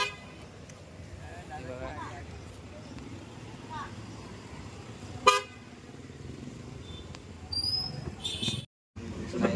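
An MG Gloster SUV pulls in at a Gudi Padwa bike rally in Prabhadevi, its horn giving a few short honks near the end over steady crowd and street noise, with voices talking throughout.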